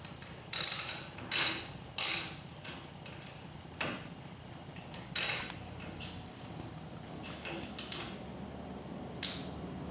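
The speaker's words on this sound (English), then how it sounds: "the next thing you want to take out is the 11mm socket" An 11mm socket ratchet loosens brackets on a garage door opener rail, with short bursts of sharp clicking spread irregularly among quieter metallic handling sounds, close by and without talk.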